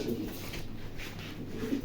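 A racing pigeon coos softly and low, in faint, muffled bursts over a steady background hum, heard close by with no talking.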